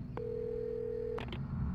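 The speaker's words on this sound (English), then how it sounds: "I guess I gotta go to the phone, right? That's the whole point, is call the police" In the video game Alan Wake, a telephone is dialed to call the police: a steady tone sounds for about a second, then two short dialing beeps follow over a low background hum.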